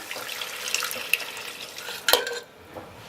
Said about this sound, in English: There goes the stock.